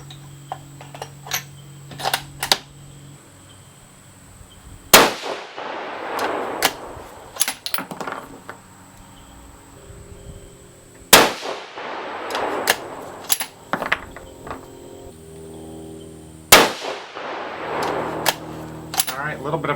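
Three loud, sharp rifle reports from a Savage 110 firing 130gr Sierra Tipped Game Changer bullets, spaced about six seconds apart, with quieter clicks and handling noises between the shots.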